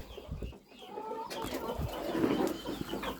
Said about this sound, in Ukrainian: Що вони верещать, ці курчата?